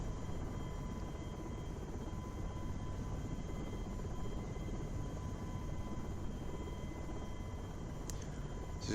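A helicopter in Microsoft Flight Simulator X flies over Lisbon, giving a constant low engine rumble with a faint steady whine and no change in level throughout.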